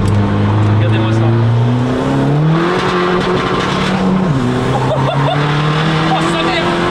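A 550-horsepower diesel SEAT Ibiza running nitrous accelerates hard, its loud engine note climbing steeply, dropping sharply at a gear change and climbing again, with people talking excitedly over it.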